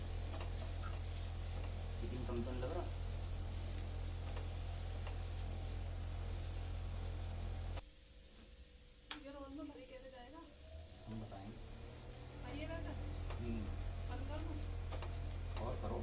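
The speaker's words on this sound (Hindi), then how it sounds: "फ्राई करते टाइम जो मसाले हमने लिए थे वो सभी इसमें ऐड कर लेंगे और थोड़ा भून लेंगे" Chicken spring roll stuffing and spices being roasted in a frying pan, with steady sizzling and occasional stirring scrapes that drop briefly quieter midway, then resume at full level; faint kitchen noise around.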